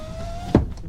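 A car's electric window motor raises the glass with a steady whine that ends in a sharp thunk as the window seats at the top, then quiet.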